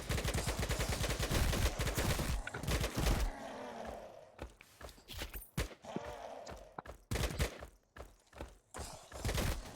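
Rapid bursts of M16 rifle fire in a video game, sharp repeated cracks in quick strings that stop and start, loud and close, with brief pauses between volleys.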